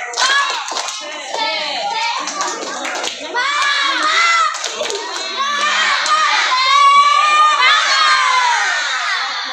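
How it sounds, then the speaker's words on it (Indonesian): Schoolchildren at an elementary school Ramadan program clap together in a rhythmic class cheer, a steady loud patter of many hands mixed with children's shouts and chatter throughout. "Tepuk semangat."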